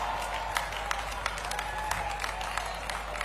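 An audience at a government employment-day event applauds to welcome the chief minister, steady moderate clapping with distinct individual claps standing out, slightly distant.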